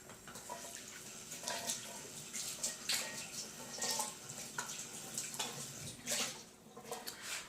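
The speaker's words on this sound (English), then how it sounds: "I'm going to wash my hands" Hands being washed under a running tap in a home kitchen during sourdough bread prep, a steady close hiss of flowing water with splashy bursts as hands move through the stream, no talking.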